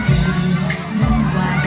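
Wedding guests applaud and cheer for the groom's parents, a dense crowd noise with shouts and clapping at moderate loudness, close by in a lively reception hall.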